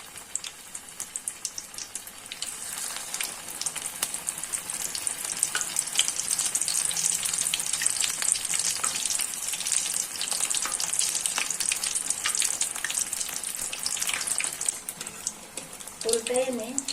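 Cauliflower pakoras coated in an egg batter fry in hot oil, giving a steady, fairly loud sizzle with crackling bursts that holds throughout, plus a few faint clinks near the end.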